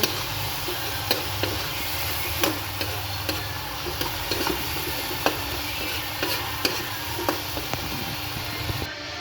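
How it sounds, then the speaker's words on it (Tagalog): Tomato and egg being stirred in a frying pan, with a steady sizzle and repeated sharp scraping clicks from the utensil against the pan throughout, close and continuous. "At nilagyan na po natin yung itlog at haluin na po natin."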